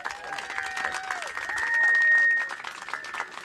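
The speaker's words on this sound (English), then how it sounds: "director of Summer Street, Kenny Placencia, also another big round of applause." Round of applause from the audience at a New York City transportation department press event, moderate clapping that swells briefly and then settles, heard with a little background chatter.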